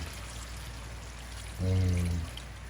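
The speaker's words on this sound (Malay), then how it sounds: "Kita masukkan air." A short splash of water poured into a cooking pot for a fried-fish asam pedas dish, lasting under a second, against a quiet kitchen background.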